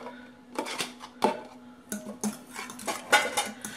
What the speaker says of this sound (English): So I got my cilantro mixed in there